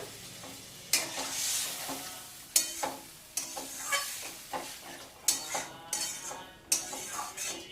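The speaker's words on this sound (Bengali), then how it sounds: "অল্প একটু জল দিয়ে দিলাম" Food frying in a pan with a little water just added, a steady sizzle broken by repeated clacks of a spatula stirring against the pan, close and fairly quiet, with no talking.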